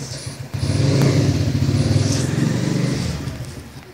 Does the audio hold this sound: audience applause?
no